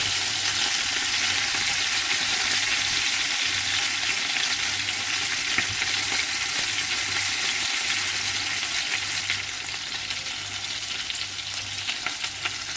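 Chicken pieces sizzling and frying in masala in a pan for handi chargha, a loud, dense, continuous crackle up close with no voices, easing slightly toward the end.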